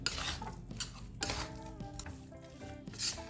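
A spoon scrapes and stirs gram flour and khoya roasting in a pan over medium heat, with soft scraping strokes, clinks against the metal and a faint sizzle, close and fairly quiet.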